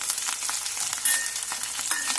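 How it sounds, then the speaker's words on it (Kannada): Chopped onion, green chilli and curry leaves fry in a pan for mango rice, giving a close, steady sizzle with light crackles and stirring. "ಎಲ್ಲ ಹಾಕೊಂಡು ಫ್ರೈ ಮಾಡ್ತಾ ಇದ್ದೀನಿ."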